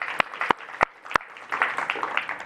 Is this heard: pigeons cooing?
no